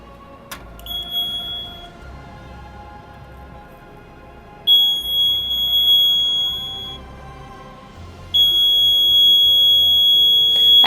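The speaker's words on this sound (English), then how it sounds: "As you can see, the buzzer also works." A small battery-powered electric buzzer sounds in steady, piercing tones close by, switched on in three separate bursts with short gaps between them.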